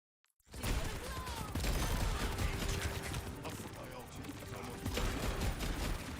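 Cassidy's fan-the-hammer fire in Overwatch 2 bursts in after a short silence, a loud, rapid barrage of revolver shots mixed with other game combat sounds that continues to the end.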